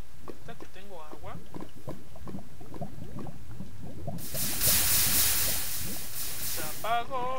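Water poured onto lava in Minecraft gives a loud, broad sizzling hiss that rises partway through and lasts a couple of seconds, following someone speaking Spanish over quieter game sounds.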